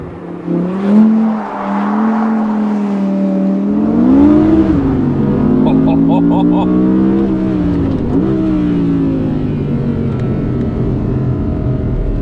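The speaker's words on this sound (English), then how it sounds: "The gear shifts are so fast." An Audi R8 GT mid-engine supercar's engine roars as it accelerates, pitch climbing then dropping with quick gear changes, heard from inside over steady road noise while someone talks.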